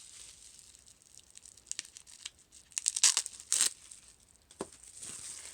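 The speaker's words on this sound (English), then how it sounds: "if I can get the tape off" Packing tape peels off a nail polish package in a few sharp, crackling rips with crinkling in between. It is close and fairly quiet, and no one talks.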